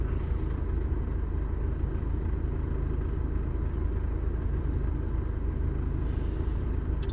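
A car idles in neutral with its transmission set to manual mode at about 750 rpm. The engine gives a steady low rumble, close and unbroken throughout, with no talking.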